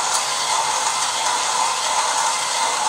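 An OE Pharos hand coffee grinder crunches beans through its loaded burrs, producing a steady, dense, gritty rasp that holds close and even throughout with no talking.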